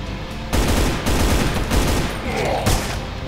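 Rapid, dense gunfire from the Brutal Doom mod Extermination Day, a sustained loud fusillade of overlapping shots that bursts in after a half-second lull and keeps rattling, with brief pauses and renewed volleys.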